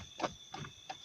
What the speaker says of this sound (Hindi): This is burning hazard indicator.